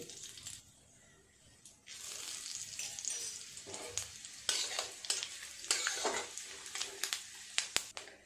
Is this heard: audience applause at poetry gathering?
no